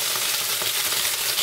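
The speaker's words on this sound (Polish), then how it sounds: "A że miałam te ziemniaczki od wczoraj ugotowane, robię z tego kartofelki smażone." Potatoes boiled the day before fry steadily in a pan for an English-style breakfast, giving a continuous close, crackling sizzle with no voices.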